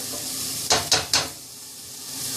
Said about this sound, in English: And it's cooking. And it's on high fire. Let that simmer.